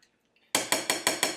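A utensil knocks against a pot five times in a steady rhythm while taco seasoning is stirred into chili mac, each sharp metallic clank close and clear, after a short quiet lead-in.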